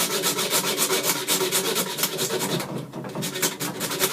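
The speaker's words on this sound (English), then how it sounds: "Don't do over the full length of the rasp, just do it over a short piece." A hand rasp files a piece of wood for a walking stick in quick, steady back-and-forth strokes, close and loud, making a rhythmic scratchy rasping with a brief pause midway.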